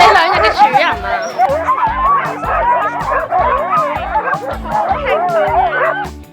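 Excited Alaskan husky sled dogs in the Arctic bark, yip and whimper nonstop in a loud, overlapping chorus, with a little human chatter mixed in.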